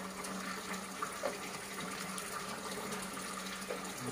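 Drinking water runs steadily from a tap or pipe at a roadside stop on a mountain ride, a continuous, moderately quiet gush of flowing water with no talking.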